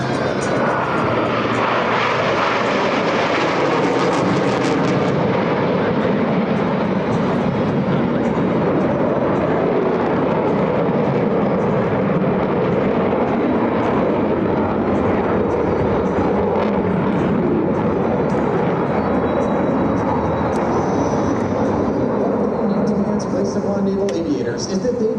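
US Navy Blue Angels jets roar past at an air show, a loud sustained jet engine rumble that swells and lingers across the whole stretch with broadband noise.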